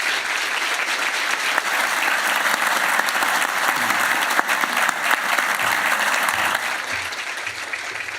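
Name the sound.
audience applause at a book presentation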